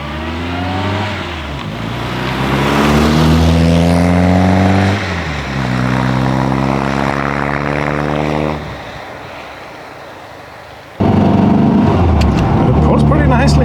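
A 1979 Reliant Super Robin three-wheeler drives along, its small engine droning loudly and climbing in pitch through several gears before a lift-off and renewed pull, heard up close.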